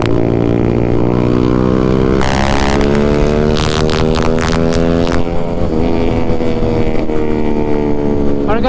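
Loud, continuous motorcycle engine and exhaust, with a Suzuki Hayabusa and an RR bike riding together on the road. The engines rise and fall in revs through several gear changes and stay constant and close the whole time.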